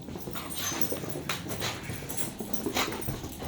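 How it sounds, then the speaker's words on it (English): Excited puppies in a hotel whimper and scuffle nearby, short soft whines and yips over pattering, shuffling movement, fairly quiet and continuous. "Look at these puppies, they're so excited."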